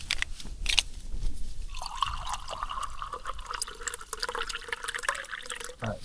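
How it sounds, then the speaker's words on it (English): Water trickling and filling a cup while measuring it out at a wild camping spot, a close, soft pouring stream with small drips, fairly faint throughout. "So I think we're gonna measure out another cup of water."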